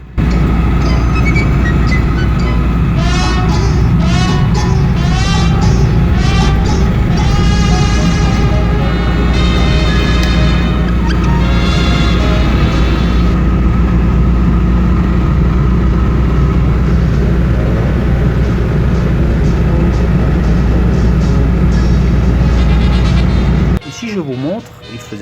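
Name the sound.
Citroën 2CV driving at 70 to 80 km/h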